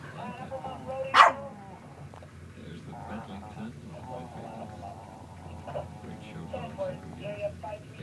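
A dog at a 2012 dog show gives a sharp bark near the start, then fainter yips and barks over crowd murmur and talk.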